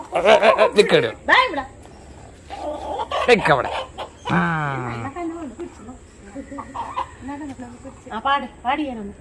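Chickens cluck and squawk in short bursts close by, with people talking in the background between the calls.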